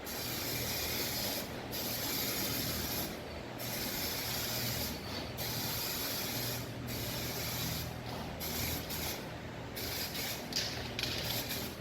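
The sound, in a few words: spray painting a Chrysler Valiant red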